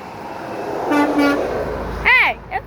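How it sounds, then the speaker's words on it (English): A truck horn gives one loud, bending honk near the end, then a short second toot, after a stretch of talking and background noise. "Hey, that boy's only honking a while."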